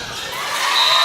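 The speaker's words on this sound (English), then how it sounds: "Crowd's loving it." A crowd at a high school basketball game roars with cheers and whoops, loud and rising steadily over a second.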